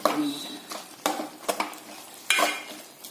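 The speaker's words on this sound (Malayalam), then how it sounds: "ഇളക്കുന്നു." A spoon stirs aviyal, a Kerala mixed-vegetable curry, in a pot after ground coconut paste and a little water are added, giving several separate scraping, clinking strokes against the pot with quiet gaps between them.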